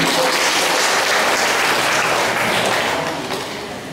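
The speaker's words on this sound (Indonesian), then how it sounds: "Kita berikan tepuk tangan untuk mereka." Loud applause from a church congregation during a Sunday service, a dense wash of many hands clapping together that holds steady and then fades slightly toward the end.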